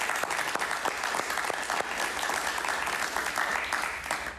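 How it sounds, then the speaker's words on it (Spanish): A crowd at a Venezuelan political gathering applauds for Pablo Medina, a member of the Junta Patriótica, with dense, loud clapping and a few sharp individual claps standing out throughout. "Un aplauso para él,"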